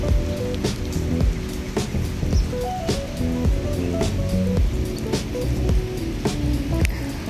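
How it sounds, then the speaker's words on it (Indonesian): Steady rain falls at Tolukko fort in Ternate, a dense constant patter with sharper drips striking nearby surfaces, no voices, lasting throughout. "Karena saat ini hujan"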